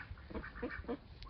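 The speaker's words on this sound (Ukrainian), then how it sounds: "Оце качки." Ducks quack in a short burst of three or four close, nasal calls at a small backyard poultry yard, with low rumbling background noise and no talk.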